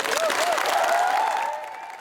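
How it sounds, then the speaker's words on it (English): Applause from a crowd, fairly loud at first and fading near the end, with a voice rising over the clapping. "Ladies and gentlemen, can I have a round of applause for Janie Godley?"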